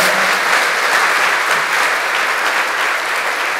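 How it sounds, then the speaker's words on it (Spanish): A church congregation applauds in a steady, sustained wash of clapping that fills the whole stretch on its own, with no voices rising above it. "Dale otro fuerte aplauso al Señor."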